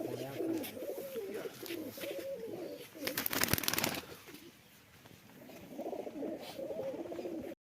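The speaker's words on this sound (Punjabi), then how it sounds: "ਮਾਸ਼ਾਅੱਲਾ ਚੰਗਾ ਕਬੂਤਰ।" Pigeons coo in soft, repeated rolling phrases close by, with a short burst of flapping or rustling in the middle; the sound is faint and no one speaks.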